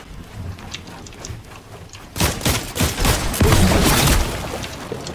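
Gunfire in Fortnite rattles as a dense, loud barrage of overlapping shots that swells suddenly out of low background noise and keeps going to the end.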